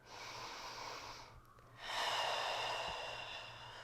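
A slow, deep breath during a beginner yoga session: a soft, close airy inhale, a short pause, then a fuller, louder exhale, with no talk.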